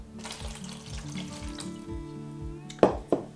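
Water pours into a seedling tray while sowing aubergine seeds, a steady splashing trickle with faint repeated knocks underneath, ending in two sharp taps of the tray close by, with no talking.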